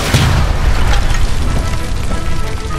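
A gas line blown up in the video game L.A. Noire gives a loud, rumbling boom with a sustained roar of debris and fire that fills the whole moment, with no voices over it.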